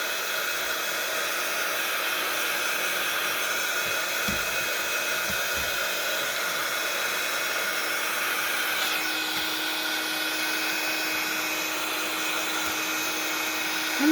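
Hair dryer blowing over a decoupage mixed media journal page, a steady airy roar that runs continuously at moderate level throughout.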